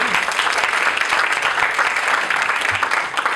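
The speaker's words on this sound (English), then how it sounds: "Can we give a round of applause for Yimei again?" A round of applause from the audience at a startup founders meetup on building product teams, loud and dense, sustained evenly for a few seconds.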